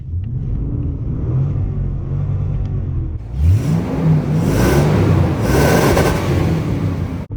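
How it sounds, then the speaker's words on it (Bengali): The 5700cc V8 engine of a Toyota Land Cruiser idles with a low, steady rumble, then rises as the air conditioning switches on or the engine is revved, and holds a louder, fuller drone close by. "খালি আওয়াজটা শুনুন একটু। 5700 সিসি ইঞ্জিন।"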